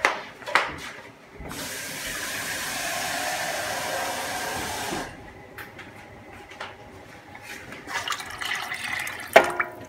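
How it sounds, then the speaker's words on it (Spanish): Water poured from a container into a cooking pot of pasta in a home kitchen, a steady rushing pour lasting a few seconds at close range, with clattering and handling noises before and after. "vamos a poner un poquito más de agua"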